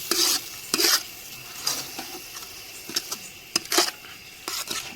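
A spoon stirs chopped onions in a cooking pan, giving repeated scraping, clattering strokes in uneven bursts over a faint sizzle.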